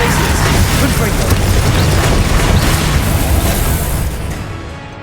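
Confringo fire spell exploding in the Hogwarts Legacy video game; a loud, sustained roaring blast rumbling for several seconds before fading at the end.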